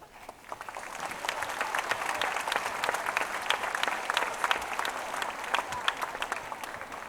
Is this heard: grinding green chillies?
no